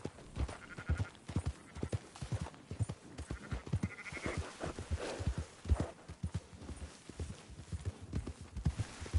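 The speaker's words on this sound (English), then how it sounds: "Marston, why don't you leave the sheep to me?" Sheep being herded on horseback in Red Dead Redemption 2: a dense, steady stream of hoof clip-clops mixed with scattered bleats, moderately close, continuing for the whole stretch without talk.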